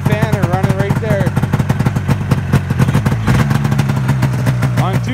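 Ski-Doo Skandic snowmobile engine idling unevenly on two cylinders, a close, rapid popping chug with an irregular beat, heard under someone talking throughout.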